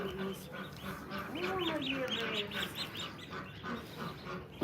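Big ducks and their babies eating tomatoes, quacking and honking in close, repeated bursts with some higher peeping calls mixed in, lively and continuous.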